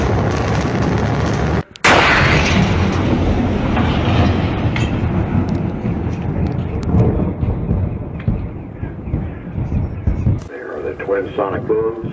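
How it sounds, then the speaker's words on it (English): Booms from landing rocket boosters arrive as a sudden loud crack after a short dropout, then trail off into a long, thunder-like rolling rumble that gradually fades. Cheering and talking from people carry through the latter part. "Landing legs up deployed."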